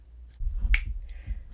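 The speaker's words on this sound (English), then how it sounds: "No words, just clapping." Two sharp, crisp hand claps ring out about a second apart in a quiet room during a children's music lesson on clapping rhythms.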